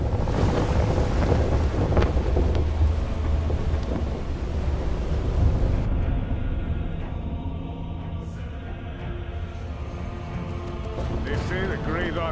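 Wind and surging sea water around a ship sailing in God of War Ascension, a loud, steady roar with low rumbling throughout, with a voice speaking over part of it.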